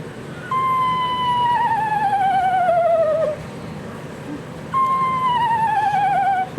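A person imitates an eastern screech owl's whinny call twice, a steady whistled tone sliding down into a quavering trill, loud and close.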